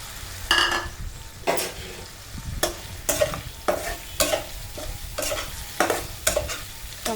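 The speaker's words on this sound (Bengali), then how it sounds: "টমেটোগুলোকে দিয়ে খুব ভালোভাবে নাড়তে হবে।" Chopped tomatoes for a potato curry frying in a pan, stirred with a spatula in repeated rhythmic scrapes over a continuous sizzle, loud and close with no voices.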